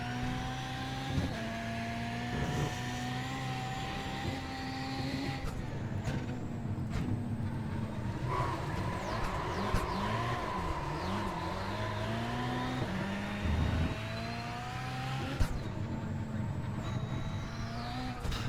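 Rally car engine from the iRacing RallyX sim game droning and revving steadily, pitch rising and falling through gear changes, with occasional sharp knocks over a continuous loud mechanical hum and no voices.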